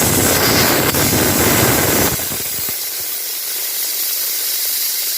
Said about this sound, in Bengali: এইবারে প্রেশারটা রিলিজ করে দিই